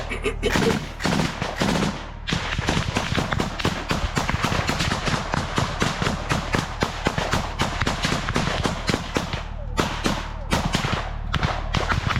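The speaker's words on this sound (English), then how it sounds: "Пригидайся, кулемет працює!" Machine gun fire during combat among trees in Ukraine, dense rapid bursts and overlapping gunshots that are loud and near, almost continuous throughout, with occasional shouted voices mixed in.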